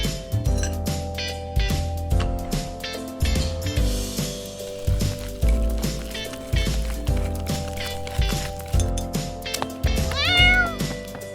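A cat meows repeatedly over a steady music bed, with short calls spread through the stretch and a rising squeak near the end, no talking.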